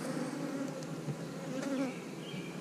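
Dense, steady buzzing of many honeybees crowding around a hive box after a newspaper-method colony merge, continuous and close throughout with no talk.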